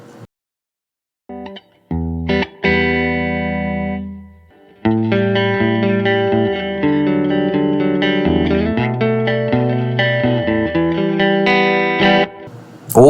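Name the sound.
electric guitar through Fender Tone Master Pro '65 Super Reverb amp model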